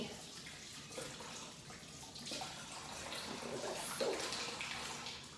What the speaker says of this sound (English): I'm gonna wash my hands, get all that butter